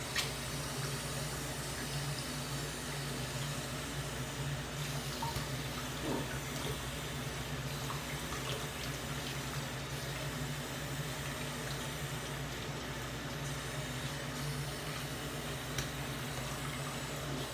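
Very hot water runs from a bathroom tap into a sink as a steady, hollow splashing rush. It is quiet and even throughout, with no one speaking.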